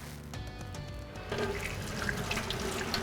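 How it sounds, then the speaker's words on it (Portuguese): Tap water runs steadily into a sink while hands are rinsed under the stream after soaping, a continuous close splashing that grows louder and fuller partway through. "você deve abrir a água e fazer o mesmo movimento agora embaixo da água"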